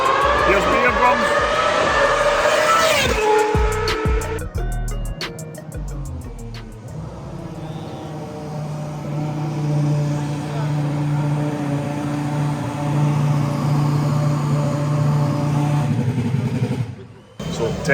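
Ferrari race cars, including F1 cars and FXX models, roar around the track at Ferrari Racing Days 2023 in Abu Dhabi: a loud close pass at the start, then a sustained high engine drone with voices beneath.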